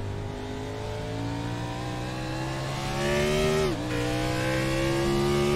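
A sim race car in an Ace-free racing league at a roval circuit drops gears with a quick pitch dip, then climbs again under steady acceleration, its engine note loud and close throughout with no talking.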